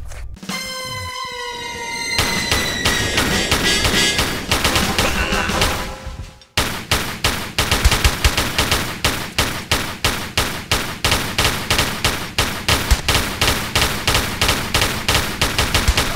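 Repeated rapid gunfire from enemies in Tomb Raider 3, loud and close, with steady bursts of shots that run almost without pause through the clip; an earlier stretch has a rising tonal sweep before the shooting resumes in an even pulsing rhythm.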